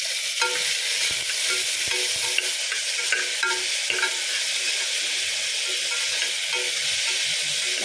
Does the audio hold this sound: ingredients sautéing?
yes